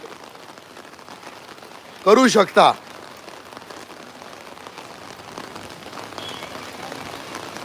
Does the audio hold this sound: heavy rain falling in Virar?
yes